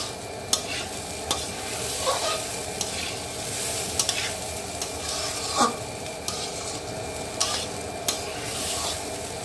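Rice frying for polao in a hot pan, stirred with repeated scraping strokes over a constant sizzle, close up and moderately loud, with no voices.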